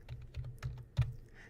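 A short burst of keystrokes on a computer keyboard, about five close, soft taps in quick succession as an ID number is entered, with one firmer keypress near the end.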